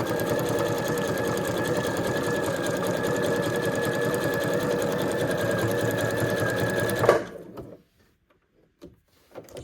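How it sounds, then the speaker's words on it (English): Steady rapid whirring of a sewing machine set to a zigzag stitch, running around the edge of a quilted fabric card for about seven seconds, then stopping, followed by a few faint handling taps. "I have set my sewing machine on a zigzag stitch"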